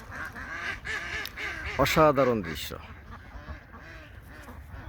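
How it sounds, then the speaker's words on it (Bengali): A flock of ducks heads toward the Titas River, quacking and honking in a noisy burst that peaks midway, while someone speaks briefly over the calls. "এই যে দেখেন হাঁসের পালটা একদম সবগুলো হাঁস চলে যাচ্ছে"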